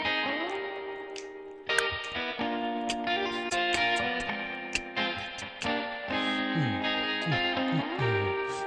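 A clean, undistorted electric guitar plays a riff as an isolated multitrack stem: sustained chordal notes with bright plucked attacks, a steady rhythmic pattern and occasional sliding pitch figures, loud and close with no voices.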